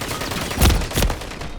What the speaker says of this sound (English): there's two people shooting at me